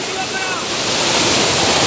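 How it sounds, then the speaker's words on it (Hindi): Ban Ganga river stream rushes in a steady, loud wash of flowing water, close by and continuous with no break. "ये देख लो बहती हुई पानी में"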